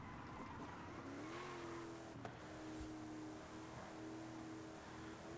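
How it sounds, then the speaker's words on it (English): A Nissan Tsuru spins its wheels in fourth gear in Forza Horizon 5, its engine holding a loud, steady, rising drone throughout with a brief squeal and knock partway through. "Look at this wheel spin. I'm wheel spinning in fourth gear."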